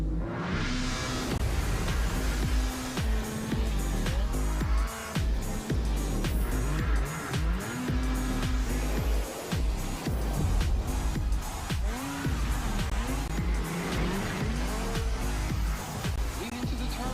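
Rotax MAX Challenge racing karts at the Grand Finals, engines droning and rising and falling continuously as they lap, with repeated pitch sweeps through corners and a steady loud mechanical roar throughout.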